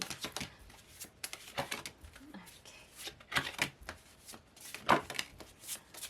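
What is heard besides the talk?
shuffling tarot cards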